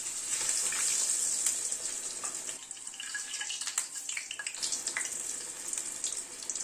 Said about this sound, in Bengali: উল্টে পাল্টে দুটো দিকে লাল করে ভেজে নিচ্ছি।